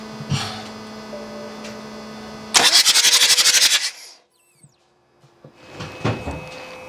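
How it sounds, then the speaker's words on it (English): A BMW M57 diesel engine with its glow plugs removed is turned over by the starter: a loud, fast, even cranking whirr lasting just over a second. A low hum and clunks come before it, and quiet knocks follow. "turn the engine over with the glow plugs removed"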